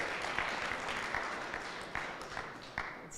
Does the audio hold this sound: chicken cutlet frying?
no